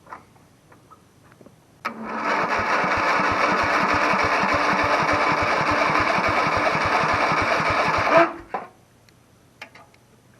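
A cheap lawn mower engine cranking and running while choked, a steady fast chugging putter for about six seconds before cutting out, with quiet handling noises before and after.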